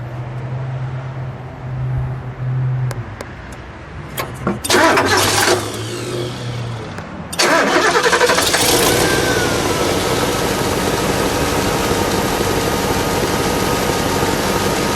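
A 1970 Lincoln Continental Mark III V8 cranks with a few clicks and whirs, then catches and fires, settling into a steady, smooth idle close by with no talk.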